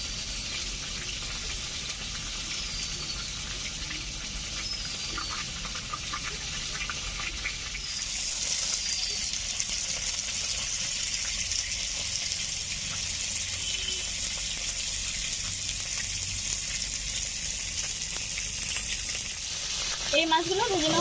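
Ritha fish frying in a pan of hot oil in a village kitchen, a steady loud sizzle that runs throughout, with a brief clatter near the end.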